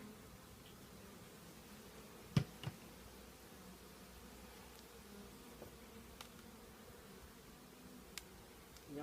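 Honeybees buzz faintly and steadily around a double-deck hive in October, with a few soft clicks and rustles breaking through now and then.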